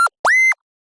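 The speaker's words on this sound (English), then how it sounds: "And this gives you a sound like this." Two short synthesized wip/woop notes from a Massive patch with a dimension expander, each sweeping sharply upward in pitch like a quick whoop, dry and staccato with a brief gap between them.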